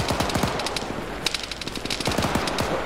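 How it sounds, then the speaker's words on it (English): Rapid automatic gunfire from the video game Arma 3 during a mountain assault, dense bursts of machine-gun shots crackling continuously and loudly with a few heavier reports mixed in. "this is someone shooting"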